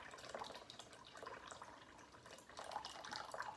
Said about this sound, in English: So I'm just waiting for the Berkey to finish filling it up.